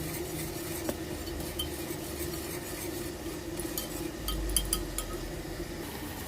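Cooked dal gets stirred with a whisk in a pot, making soft, continuous swishing with faint metallic clinks, low and close in a quiet kitchen with no voices.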